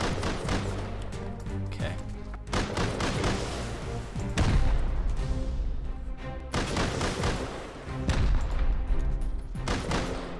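Repeated gunfire with heavy booming blasts during a raid on a metal base in the video game Rust, dense and loud, with a brief spoken word over it.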